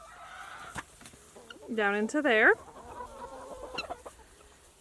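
Chickens in a mobile pasture coop cluck and squawk nearby, with a loud burst of calls in the middle and someone speaking briefly.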